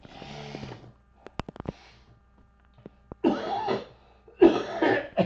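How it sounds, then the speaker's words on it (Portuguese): A man coughs harshly in a room, a few rough bursts after a brief stretch of throat noise, close and fairly loud, with small clicks and thumps between them. "Perdão novamente por essa tosse."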